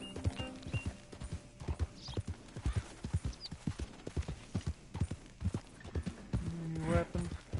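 Horse hooves clip-clopping in the video game Red Dead Redemption 2, a steady trotting gait of repeated hollow hoof strikes over several seconds, close, with brief tonal game sounds and a faint voice mixed in.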